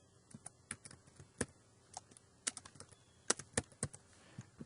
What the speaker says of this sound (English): I'm going to type in ankle sprain